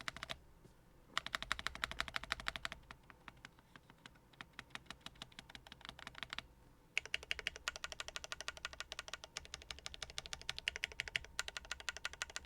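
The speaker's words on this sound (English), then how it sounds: "I think the outer keys sound better than the spacebar is the weakest link right now." Rapid typing on a Baion Synovia mechanical keyboard, close and clacky, in bursts of fast keystrokes separated by short pauses, with no talking.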